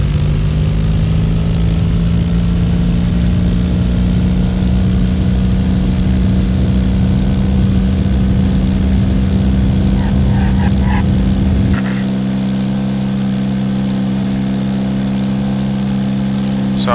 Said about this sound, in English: I'm kind of in the middle of a takeoff right now, so let's just get going